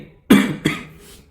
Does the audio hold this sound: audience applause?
no